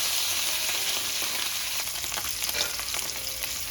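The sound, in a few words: steak searing on a hot pan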